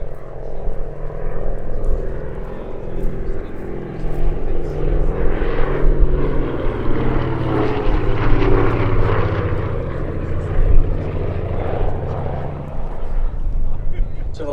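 A Lockheed Electra Junior at the Sywell airshow gives a steady, loud engine drone that holds for the whole stretch, with a voice talking over it.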